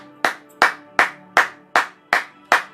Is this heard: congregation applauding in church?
yes